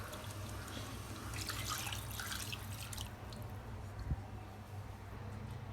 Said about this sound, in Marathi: गरम केलेलं पाणीच टाकायचं.